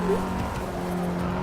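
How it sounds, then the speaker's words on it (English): A front-wheel-drive car spins its front tire, a steady engine drone with a brief tire chirp near the start, close and fairly loud throughout. "Again, spinning that front tire."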